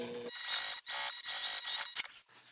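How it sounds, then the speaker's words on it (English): Sewing machine top stitching along the edge of a backpack, a close, steady mechanical whir running in several bursts separated by brief pauses, with light clicks between runs. "I'm just going to top stitch along that edge that we just sewed"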